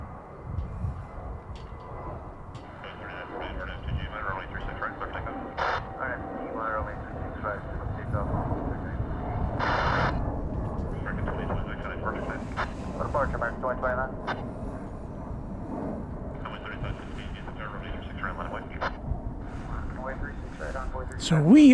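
Airplane coming in to land at DFW Airport, a broad continuous engine roar that swells gradually and stays steady, heard from a distance while people talk intermittently over it.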